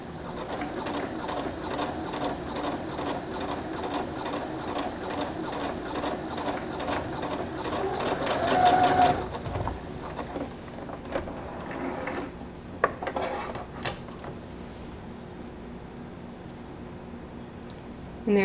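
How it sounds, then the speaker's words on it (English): A sewing machine runs a twin needle through fabric, a dense, rapid mechanical whir for about nine seconds that then stops, leaving a quieter room with a few soft clicks and knocks. "Put your fabric under here, and then let's give it a little bit of gas. There you go. We are twin needle stitching."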